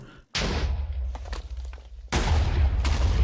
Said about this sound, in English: Yep, and there it is, Ben getting taken out by this cannon.